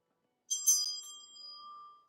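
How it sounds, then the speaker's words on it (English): A Tibetan chakra bell, tuned to a chakra, is struck once and rings with a clear, bright tone whose long, steady resonance hums on and slowly fades, alone with no talking. "as well as the Tibetan chakra bells. These are beautiful. They have a really nice resonance to them."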